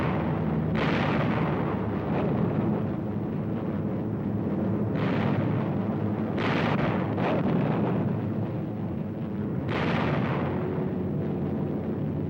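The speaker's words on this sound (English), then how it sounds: "At the critical moment, 500-pound bombs are skipped into the sides of the Japanese ships." World War II explosions of 500-pound bombs skip-bombed into the sides of Japanese ships boom loud and continuous, with several heavy blasts rising out of a constant rumbling roar.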